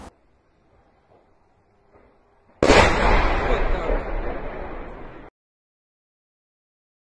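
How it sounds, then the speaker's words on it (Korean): Chain explosions of stored drones at a storage depot in southern Russia: after a quiet, distant stretch, a sudden loud blast erupts into a roaring, crackling rumble of secondary detonations lasting several seconds, then cuts off. "계속해서 유폭이 일어나는 것으로 봐서는 이 창고에 있는 다량의 드론들이 계속해서 폭발하고 있었다라는 것을 의미합니다"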